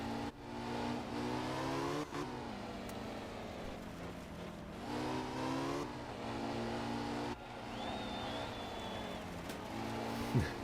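Rally car engine in the Art of Rally video game holds a steady mid-pitched drone, with its revs rising and dropping as it shifts through gears, moderately loud with no one speaking.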